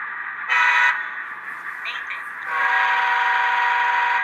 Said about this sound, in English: No, the horn is still weird.